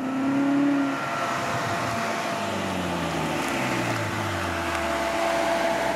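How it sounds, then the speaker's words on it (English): A Ferrari California's folding retractable hardtop runs its cycle with a steady electric-motor hum and several rising and falling mechanical whines, heard close up, alone and without talk. "this folding, retractable hardtop. So, let's pull over and see how it works."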